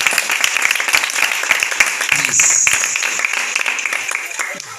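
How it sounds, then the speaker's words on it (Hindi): Congregation applause at a Hindi-language church service led by a pastor, a dense steady crowd clapping filling the whole stretch, fairly loud and close, with some voices mixed in. "के लिए जोरदार तालियां"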